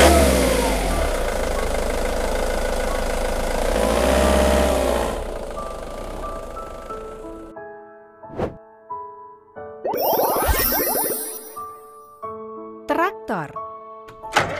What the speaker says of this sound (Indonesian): Mobil van.